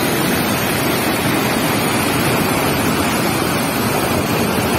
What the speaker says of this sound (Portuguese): Isso não é outra coisa não, isso é só água, velho.